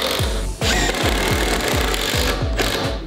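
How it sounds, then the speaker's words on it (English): A power driver sinks a screw through chipboard flooring into a joist below, its rapid clattering whir loud and close, with repeated rhythmic pulses as the screw bites and pulls the board down tight. "Another thing to do, come in from the other side, screwing through into that"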